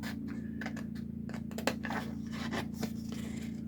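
Scissors snipping and scraping through cardboard for a Dollar Tree Christmas ornament, a series of short close crisp cuts over a steady low hum.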